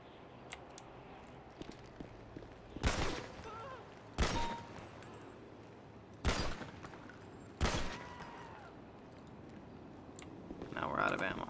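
Gunshots from a gun in a video game roleplay server, four sharp loud bangs spaced a second or two apart with short decays, over faint keyboard clicking and quiet background.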